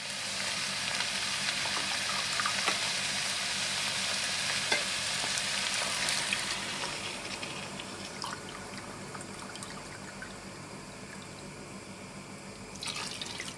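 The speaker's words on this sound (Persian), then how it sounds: "حالا 2 لیوان آب جوش به خورشتمون اضافه میکنیم." Green plum stew with boiling water just added simmers and bubbles in the pot, a steady close hiss with faint crackles throughout, no talk.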